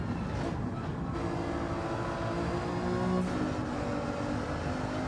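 Alfa Romeo 155 Gr.4 race car in Gran Turismo 7 at the Tokyo circuit, dropping two gears: a steady engine drone with tonal whine that changes pitch at each downshift, loud and continuous with no talking.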